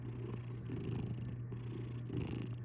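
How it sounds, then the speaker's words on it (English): A cat purrs steadily and close by in a quiet room, a soft continuous rumbling with rhythmic breaths, alone with no talking. "Do we hear the purrs?"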